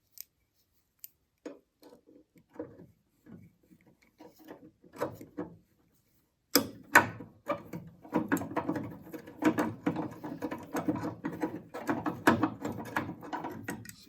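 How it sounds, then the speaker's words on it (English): A thread tap is turned through paint-clogged bolt holes on a 1968 Mustang, giving dry scraping and ratcheting clicks, with sparse taps at first and then a dense, steady run of close metallic grinding. "just run your tap through the holes. That gets all the paint out."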